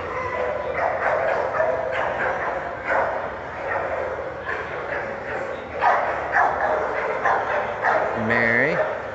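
Dogs bark in repeated short bursts at an outdoor dog show during the champion male class, mixed with steady crowd noise and people talking nearby.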